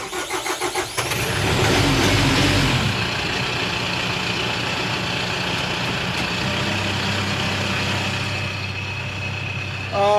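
A car engine cranks and catches with the clutch pedal pushed in, then settles into a steady idle that runs loud and close for the rest of the clip.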